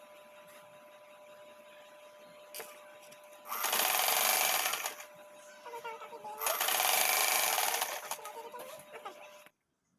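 A sewing machine stitches kaftan fabric in two loud bursts of rapid whirring, each a couple of seconds long, separated by quieter handling noise and a faint steady hum, close up.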